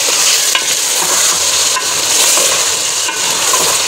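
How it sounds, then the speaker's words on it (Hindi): Tomatoes fry loudly in a hot pan as they are stirred, a dense, continuous sizzle close up with light scraping pulses and no talking. "टमाटरों के साथ इसे फ्राई करेंगे"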